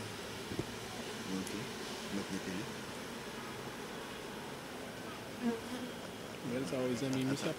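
Honey bees swarm over a hive frame, a dense continuous buzzing drone close up, with a few louder individual bees passing near the end.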